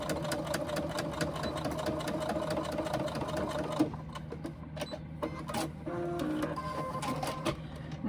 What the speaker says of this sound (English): Now come to the machine, and again we are going to baste this in place.